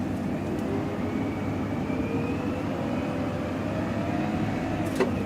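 A Case 621G XR wheel loader's engine drones steadily as the throttle pedal is worked, a constant deep rumble with tones rising slowly as revs climb. Heard alone, without talk.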